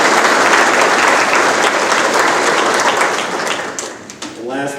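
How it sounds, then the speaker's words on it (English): Crowd at a military pilot training graduation claps loudly and steadily, the applause thinning out toward the end as a voice begins speaking. "Round of applause for them."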